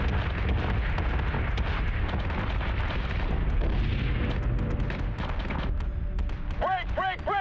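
Artillery and gunfire roar steadily from a space battle in Battlestar Galactica: Deadlock, a dense, continuous barrage of booms and bursts with radio voices and chatter talking over it.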